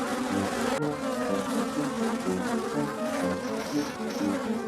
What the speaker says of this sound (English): while swatting at the swarm of angry bees